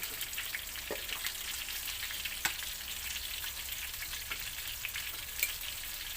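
Steady crackling sizzle of milkfish frying in oil in a pan, with occasional sharper pops and spatters, close by and fairly quiet, no talking.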